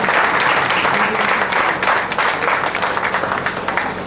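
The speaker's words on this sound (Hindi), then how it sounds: "अंत में एक बार जोरदार तालियों से इनका स्वागत किया जाए।" An audience at a Lions Club programme held at a temple hall in Janakpuri, Delhi, breaks into loud, sustained applause, a dense wash of clapping that holds strong for several seconds before easing slightly.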